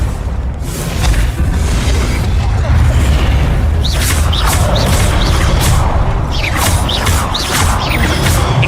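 Fiery Confringo explosion spells blasting in Hogwarts Legacy combat, a loud sustained rumbling boom with repeated whooshing bursts as spells land one after another.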